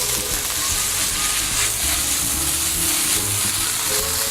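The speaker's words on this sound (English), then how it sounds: "when I add this pasta to the skillet to saute it, the skillet is going to get angry" Pasta sautéing in a hot skillet gives a steady, loud sizzle and frying crackle that holds even across the whole stretch, with no talk over it.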